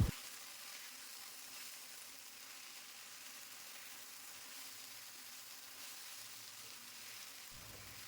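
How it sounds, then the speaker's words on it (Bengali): Okra, onion and garlic frying in a pan give a steady, even sizzle that holds unbroken throughout, close and moderately loud with no voices. "ঢ্যাঁড়স, পেঁয়াজ, রসুন কড়া করে ভাজার কোনো প্রয়োজন নেই"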